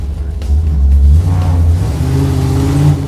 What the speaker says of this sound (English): you really need to do a burnout down this street